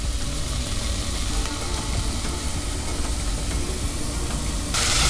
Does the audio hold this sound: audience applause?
no